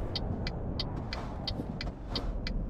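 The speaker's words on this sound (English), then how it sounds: "That car wanted to crash into me" A car in Euro Truck Simulator 2 passes close by with a steady engine rumble, marked by a rapid, regular ticking pulse.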